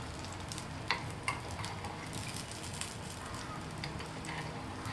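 Food frying in oil in a pan is turned over after the lid comes off, with a steady hiss and sizzle under two sharp clinks of a utensil early on, moderately quiet and close.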